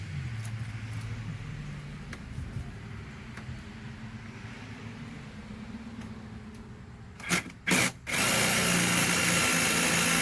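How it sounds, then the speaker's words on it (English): A power drill runs in short bursts and then bores straight down through wood at high speed, building cornhole boards, loud and close, after a stretch of low background rumble. "you can flip it over and drill your hole straight down"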